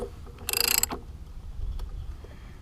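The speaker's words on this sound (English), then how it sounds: "got me a ratchet" A ratchet and socket work on a KTM 690 motorcycle during a countershaft seal replacement, giving one short, close burst of quick ratcheting clicks followed by a quieter faint knock, with no voices.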